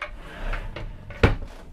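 A cupboard door closes inside a Bavaria I690D motorhome, several light knocks and clicks ending in one sharper shut, close by and indoors.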